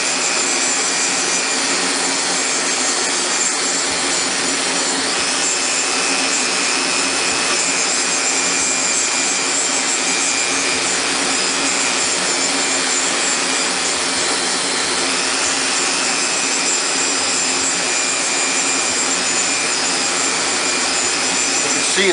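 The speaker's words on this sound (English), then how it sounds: "Grind off all the copper, because you want a zinc" Grinder steadily grinding the copper off pennies to expose the zinc, with the dust drawn into a filter: a continuous loud, high whine and hiss, close and unbroken throughout.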